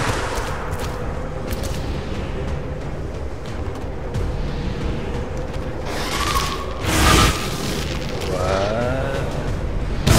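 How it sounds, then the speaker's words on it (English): Grenade launcher explosion in the video game XCOM 2, a sharp broadband burst rising out of continuous mechanical game noise and ambience, with no talking. "But the grenade launcher works just fine."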